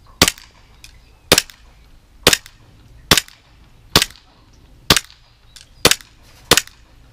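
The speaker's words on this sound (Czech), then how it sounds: "jdem se teda podívat, jak střílí" Eight sharp, snappy shots from a WE Glock 18c green gas airsoft pistol fired outdoors in cold weather, spaced about a second apart, each a crisp crack with a short tail.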